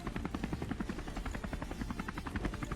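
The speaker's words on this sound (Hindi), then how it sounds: "तभी सामने एक और हेलीकॉप्टर का साउंड आता है" A helicopter in the ScarFall 2.0 shooter game beats steadily with fast, even rotor chops, fairly close and continuous, with no voices over it.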